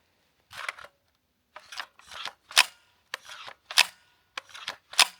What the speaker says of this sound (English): The bolt moves with a little bit better speed than with the Ballistol.